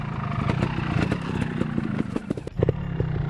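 GASGAS TXT Racing 300 trial motorcycle being ridden: a steady close engine drone with rapid throttle blips and clattering, continuous throughout with a brief dip and sharp rev near the end.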